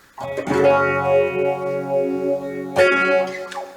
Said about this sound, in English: I'm using that MXR sort of phase 90 type effect